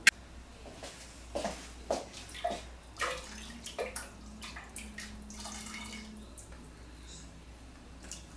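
Octopus cooking broth is strained and poured, with splashy liquid pouring, trickles and drips in irregular bursts, close and moderately soft, fading toward a quiet end.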